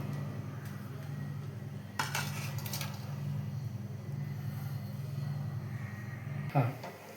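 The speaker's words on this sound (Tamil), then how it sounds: "ரவையை போட்டு கலருங்க நல்லா கலரி விடணும்" A spoon scrapes and clatters in a pan as semolina (rava) is stirred for rava kichadi, with two sharper scraping knocks over a steady, even background hum.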